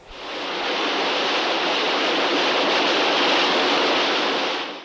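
Water pours in a steady, loud broadband rush as it fills a trap in Hercules Against the Moon Men, swelling in quickly and holding unbroken for several seconds before cutting off.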